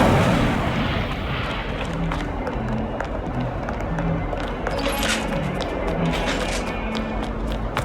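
Incendio fire spell cast in Hogwarts Legacy, a steady roaring, crackling rush of game combat noise that runs through the whole moment at even loudness, with faint background voices mixed underneath.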